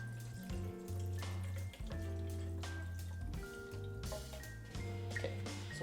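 Tap water pours into a graduated cylinder for black-and-white film developing, a continuous splashing stream whose pitch slowly shifts as the level rises, close and steady with no talk.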